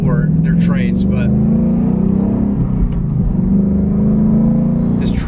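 A 2021 Ford Mustang Mach 1 with a Tremec 6-speed manual cruises with a loud, steady low engine drone and slight pitch shifts, with someone talking over it throughout.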